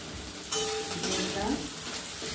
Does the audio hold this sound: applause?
no